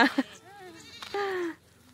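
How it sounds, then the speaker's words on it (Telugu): Goats in a herd out among green farm fields bleat close by, with two short sharp calls and then a longer wavering bleat, followed by a final drawn-out cry. "గొర్రెలు కాదు, మేకల మంద"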